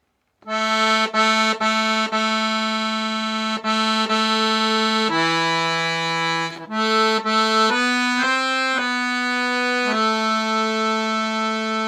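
An accordion plays a bright, sustained solo melody alone, a trumpet solo part starting from A, reedy held notes moving through a trumpet-like fanfare line with short breaths between phrases.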